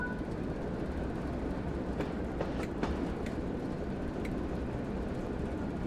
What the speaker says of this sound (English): Locomotive is on the move.